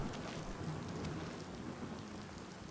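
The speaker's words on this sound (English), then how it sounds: "you can see the rain coming down kind of in waves, just like in real life" Steady rain pours down in the fantasy video game Oblivion, a dense, continuous hiss with a low rumbling undertone like distant thunder, sustained evenly throughout.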